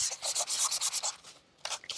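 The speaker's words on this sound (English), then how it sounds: "So what I'm doing is sanding off just the top of the cardstock where some of that ink is," Sandpaper rubs across the top surface of inked cardstock in quick, close, scratchy strokes, about eight rapid passes, a brief pause, then a few more strokes.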